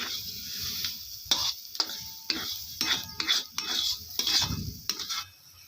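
Besan (gram flour) is stirred in a pan for Maharashtrian pithla, a spoon scraping and knocking against the metal in irregular strokes over a faint sizzle, close by.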